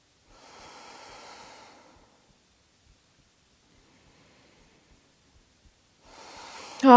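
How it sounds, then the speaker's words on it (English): Slow deep breathing during a vinyasa yoga session: one long airy exhale, a stretch of near silence, then another breath beginning, soft and close. "Three more deep breaths."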